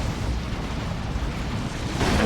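Orbital bombardment strike in Dawn of War 2, a Warhammer 40k strategy game: a dense, sustained rumbling roar that holds steady and swells slightly near the end, with no voices.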